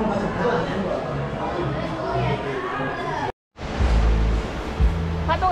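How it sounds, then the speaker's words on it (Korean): Strong ocean waves break and wash on a beach as a steady roaring surf, with a brief cutout partway through and people talking nearby. "파도가 엄청 세죠?"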